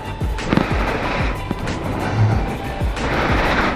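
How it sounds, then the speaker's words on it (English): Motor scooter cruising with the rider's feet up and only small, occasional throttle blips, giving a steady close road-and-wind rumble with recurring low surges. "I put my feet up and I put the throttle every now and then, just a little bit"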